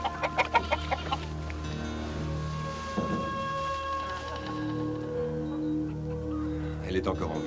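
Chickens cluck in a barn, with a cluster of sharp clucks at the start and more near the end, over a low steady background hum and muffled voices talking.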